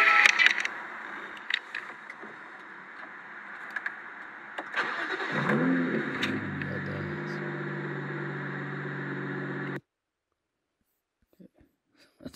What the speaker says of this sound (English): Cold start video. Yeah, let's watch that.